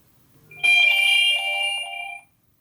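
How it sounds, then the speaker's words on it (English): Alert tone from a phone set off by the Find My Phone feature on a Garmin Venu 3 watch, one sustained bright chiming ring lasting about a second and a half, close and clear, then cutting off. "I'm able to find my phone using the Find My Phone feature."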